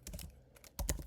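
Typing on a computer keyboard while writing Python code, a few quick bursts of clicking keystrokes close by, with a short pause before a louder cluster at the end.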